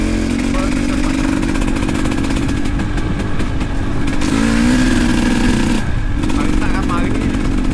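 A motorcycle engine runs steadily on a rural jungle track, its mid-pitched drone continuous and fairly loud with a brief rising rev partway through, while people talk over it.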